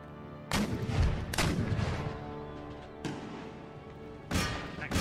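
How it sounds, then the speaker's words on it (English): Empire: Total War battle with booming artillery and musket volleys: four heavy, sharp blasts at irregular intervals, each followed by a rumbling, crackling tail. "They're engaging our flank with artillery"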